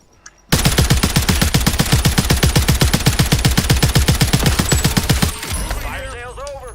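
Rapid automatic gunfire in Call of Duty gameplay, a loud, evenly spaced stream of shots lasting about five seconds, then cutting off into quieter game sounds with a brief voice at the end.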